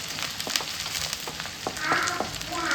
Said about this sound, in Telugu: పచ్చిమిర్చి, ఆనియన్స్ కొంచెం గోల్డెన్ బ్రౌన్ వచ్చిందాక ఫ్రై చేసుకుందాం